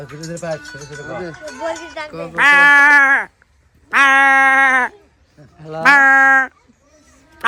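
A child imitates a goat's bleat: three loud, drawn-out, wavering bleats with short pauses between them. Brief talk comes before the first bleat.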